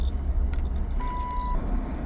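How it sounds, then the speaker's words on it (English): A car's warning chime sounds as a single steady electronic beep lasting about half a second, faint beneath a loud low engine rumble inside the vehicle. "I hate when my car beeps like this."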